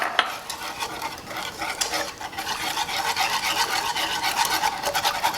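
Milk is whisked into a cooked flour and butter roux, giving a continuous close rhythmic scraping and swishing of a utensil in the pot, alone with no voices.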